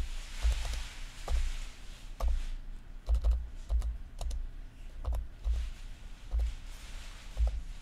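Rapid clicking keystrokes on a computer keyboard come in uneven bursts and pauses, close and fairly clear, with no speech over them.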